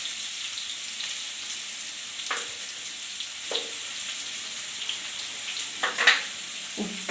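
Chopped onions frying with salt in a pan as the base of a Kannada tomato chutney give off a steady, soft sizzle, with a few faint spatula scrapes and pops standing out near the end.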